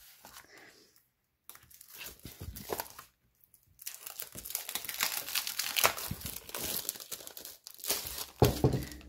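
Sheets of 120 gsm patterned decorative paper are handled, producing bursts of close crinkling and rustling separated by short pauses, with the rustle swelling louder toward the end.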